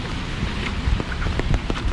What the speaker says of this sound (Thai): ฝนตกดีครับพายุเขา